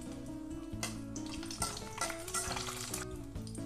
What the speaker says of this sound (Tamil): நெய் காஞ்சிச்சு, முந்திரி போட்டுடலாம்